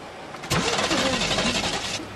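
A car engine cranks and catches, then settles into a loud, rough idle that continues to the end before cutting off abruptly.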